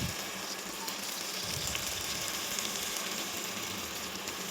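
Chicken pieces sizzling in a hot clay pot with spices, a dense even hiss of frying oil at moderate volume, no voices.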